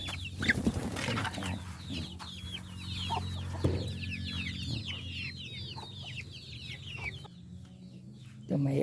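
Rhode Island chickens clucking close by in a farm setting, many overlapping soft, repetitive clucks forming a busy chorus over a low background hum, with no talking.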